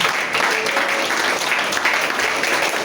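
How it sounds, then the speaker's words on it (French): Church congregation applauding during a French-language worship service, a steady dense wash of clapping filling the room throughout, with faint voices mixed in. "Acclame Jésus."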